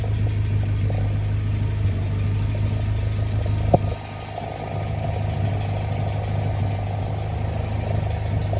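Ford Sierra Cosworth engine idling steadily with a low, even rumble and vibration, the car shaking on its new engine mounts. A brief click sounds midway, followed by a slight dip in level before the steady idle resumes.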